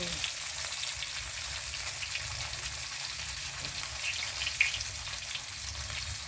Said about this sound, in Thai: ทอดให้ปลาทูอร่อยไม่ยากค่ะ